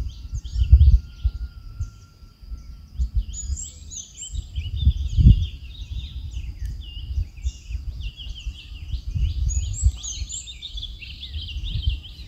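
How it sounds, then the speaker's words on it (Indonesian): Birds chirp in quick, repeated bursts from a distance over a low rumbling background at Wonorejo Reservoir in Tulungagung, Indonesia. "Ini ada suara kicauan burung, mungkin bisa kalian dengar."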